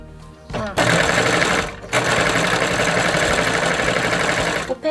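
Sewing machine stitching faux leather under a presser foot, a steady loud mechanical whir running nearly continuously with two brief pauses, close up and without talk.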